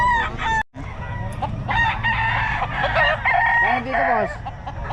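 A Boston Hen gamecock crowing close by, a drawn-out rising and falling call over a busy backdrop of other fowl clucking and background voices.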